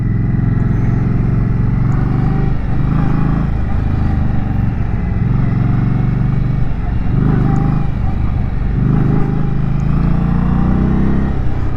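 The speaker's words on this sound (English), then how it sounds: "bike accelerates pretty hard for only being 60 cubic inches" A 2023 Indian motorcycle with a 60 cubic inch engine accelerating hard while riding, loud engine roar rising through repeated pulls with gear-change dips between them and wind rush over it.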